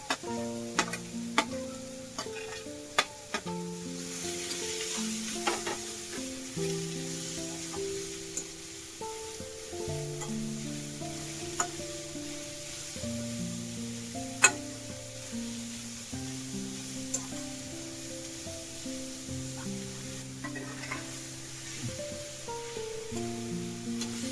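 Tomato, carrot, capsicum and beetroot stir-frying in a pan, a faint, steady sizzle with scattered clicks from stirring, under quiet background music, no talking.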